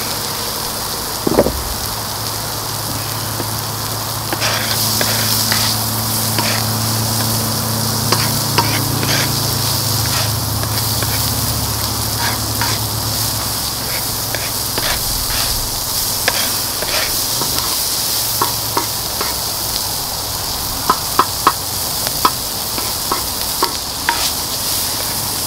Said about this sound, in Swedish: Vi har brynt löken lite där.